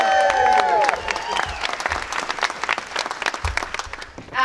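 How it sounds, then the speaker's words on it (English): At a film premiere Q&A, an audience breaks into applause, a busy spatter of clapping with scattered whoops that swells and fades over a few seconds while a voice talks over the start. "A round of applause, Kirby."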